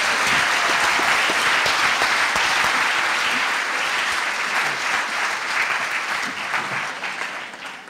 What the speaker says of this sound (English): Professor Mark Clarfield really deserves a very big round of applause